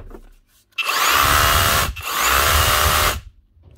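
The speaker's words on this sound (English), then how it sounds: "An Erbauer SDS drill." An Erbauer cordless brushless SDS drill runs in two bursts of a few seconds each, a loud, harsh motor whine with a brief pause between them, with quiet handling noise before and after.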